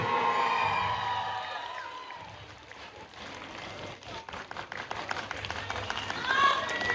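An audience applauds and cheers at a packed special film screening, the clapping dense at first, dipping midway, then swelling again with scattered whoops over crowd noise.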